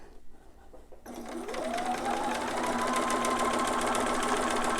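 A sewing machine starts up after a quiet moment and hums through a continuous run of stitching on a newborn romper, its motor pitch rising slightly as it settles into a steady pace.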